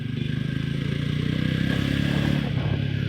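A 2020 Jawa 42 BS6 300cc motorcycle rides along with a steady, throbbing engine note that pulses rapidly and evenly, heard up close with a slight rise in pitch toward the end.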